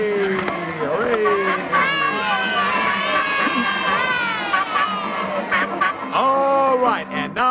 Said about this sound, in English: Now, all the Flubbadub supporters, cheer and raise your left arm.